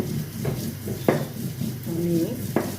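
Curry with added broth cooking in a pot while being stirred, a low bubbling simmer with a few spoon knocks against the pot, close and soft, with brief talking underneath.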